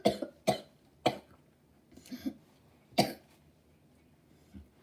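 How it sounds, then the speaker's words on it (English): Several sharp coughs in a ragged series, a quick pair at first and then single hacks, close and fairly loud in a quiet room. "Why do I have such bad coughs?"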